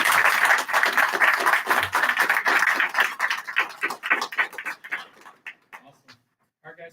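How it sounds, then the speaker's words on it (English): Parents and attendees at a school board meeting applaud students, with dense, loud clapping that thins out and trails off into scattered claps and near silence over about seven seconds. "So big round of applause for them."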